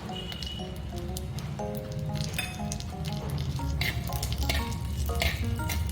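Shallots and curry leaves frying in hot oil for a prawn coconut curry make a continuous close crackle with bright spitting pops throughout.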